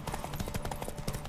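Horse hooves gallop in a race in The Witcher 3: Wild Hunt, a fast, steady clip-clop pounding beneath game ambience, moderately quiet and continuous.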